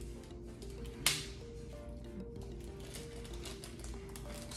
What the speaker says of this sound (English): how do you open this? They wrap this tape around so tight.